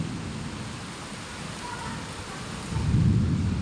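Steady rain hisses down during a storm in Bangalore, with a low rumble of thunder rolling in and swelling louder near the end.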